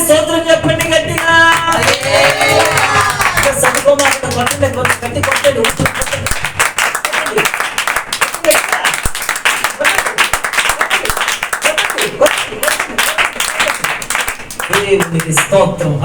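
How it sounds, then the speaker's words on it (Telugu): A church congregation claps loudly and steadily in praise during a sermon, the rhythmic clapping continuing under voices and background music throughout. "చేతులెత్తి చప్పట్లు కొట్టి స్తోత్రం చెప్పండి గట్టిగా"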